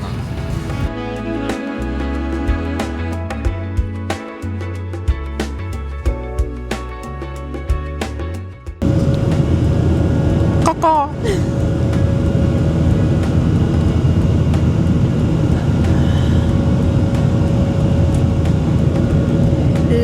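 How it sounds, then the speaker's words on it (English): A fixed-wing airliner taking off on a flight from Durban, South Africa, to the Maldives, heard from inside the cabin: clattering and thumps give way to a steady loud engine roar and rumble that holds to the end. "Ladies and gentlemen, we have takeoff"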